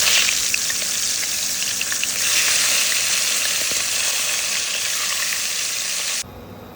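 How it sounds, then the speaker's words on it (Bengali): Hilsa fish heads rubbed with turmeric and salt frying in hot oil, a loud, steady hiss and crackling sizzle held close for several seconds before cutting off abruptly near the end. "ইলিশ মাছের মাথাগুলোকে একটু হলুদ লবণ লাগিয়ে রেখেছি, সেগুলোকে ভেজে নেব।"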